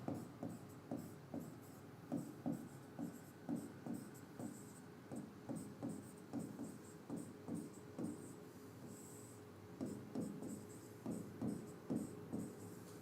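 Chalk or marker writes on a board during a power systems lecture, a quiet run of rhythmic short scratching strokes with brief pauses, close and without talk.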